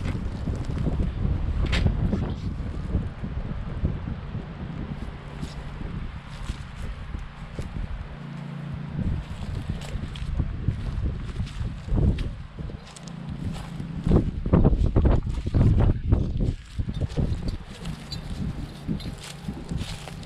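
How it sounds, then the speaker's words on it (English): Gusty wind blowing trees around a parked camper while boondocking on a farm, a rushing, buffeting roar with microphone wind noise rising and falling throughout. "you can see the trees are already blowing like crazy"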